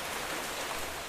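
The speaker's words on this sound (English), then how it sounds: "Stupid rain." Rain falling in modded Minecraft, a steady dense hiss of rainfall that continues unbroken and alone, with no voices.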